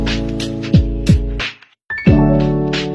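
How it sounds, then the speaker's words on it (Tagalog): Exhaust of a Mitsubishi Lancer GSR coupe with a dual valve muffler cutout, revving in loud rising pulls with a raspy tone, dropping briefly to near silence before climbing again, heard close. "Mas maganda gumamit kayo ng earphones para marinig nyo ng maayos yung tunog ng tambucho natin"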